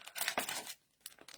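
A clear plastic envelope is crinkled and handled close by in a craft setting: a dense rustling burst of roughly half a second, a short pause, then lighter crinkles.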